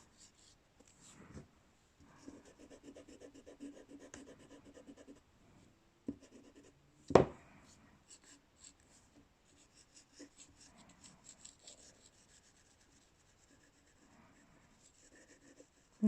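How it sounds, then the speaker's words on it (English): A pencil shades a sphere drawing on paper with quiet, intermittent scratching strokes, grouped in short bursts with pauses between them and one sharper scrape partway through. "a good artist should be able to use lots of different pressures with a pencil"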